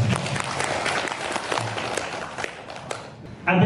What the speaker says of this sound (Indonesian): Tepuk tangan Mas.